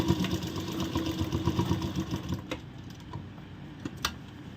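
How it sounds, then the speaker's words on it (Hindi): Sewing machine stitching elastic and pasting paper into a ladies' palazzo pant, a busy mechanical whir with dense rapid ticks for about two and a half seconds, then stopping into quiet with a couple of sharp clicks. "तो यहाँ पर सिलाई लगाना ज़रूरी है।"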